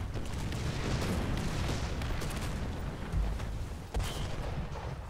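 Tank cannon and machine-gun fire from a KV-1 L11 in the War Thunder video game, a dense rumbling barrage of shots and booms with a couple of sharper blasts near the end.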